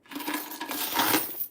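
Coins clink and jingle against each other as they spill and shift while being sorted, a close, bright rattle lasting just over a second with no talking.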